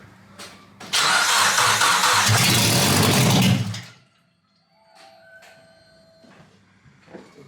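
Rebuilt car engine cranking with the coil packs unplugged, a loud close starter whir for about three seconds that cuts off into quiet, followed by faint clicks and small noises.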